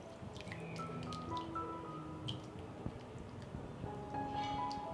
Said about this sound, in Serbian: U činiju dodajem kašiku paradajz koncentrata, dodat ću 100 ml vode i sve ću ovo razmutiti.